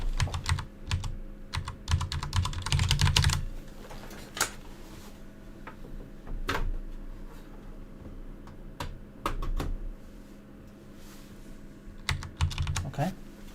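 Rapid clicky typing on a computer keyboard comes in bursts separated by pauses, close and moderately loud, over a faint steady hum.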